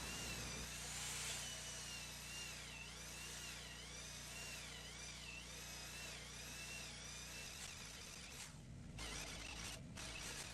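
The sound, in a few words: power drill drilling tenon holes with depth gauge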